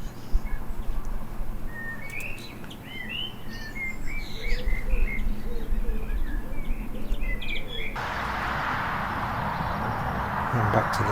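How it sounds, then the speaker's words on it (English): Female house sparrows and a young chaffinch chirping at a garden feeding table in England, a run of quick high tweets and calls over a constant low hum, with a rougher noise taking over near the end. "There's a female sparrow, female house sparrow here."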